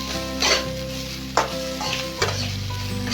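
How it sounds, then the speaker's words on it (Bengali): Food in a frying pan being stirred for about a minute while cooking a Bengali non-veg thali, with a steady close sizzle and a few scraping strokes, and no talking. "ভালো করে ওই 1 মিনিটের মতো নেড়ে নেব"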